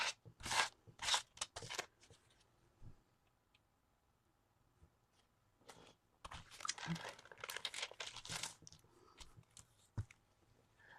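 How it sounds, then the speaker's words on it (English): Wax paper being folded and crinkled during a mixed media collage art card session, bursts of crisp crackling and rustling up close, pausing then resuming in a long busy stretch, with no speech. "I'm going to have to fold up my wax paper"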